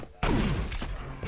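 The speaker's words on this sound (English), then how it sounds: "That's a nice rocket jump up from Fazz" A rocket jump in the video game Quake Live: a sudden loud explosive thump that bursts in and rings out with a falling tone, filling the short moment alone.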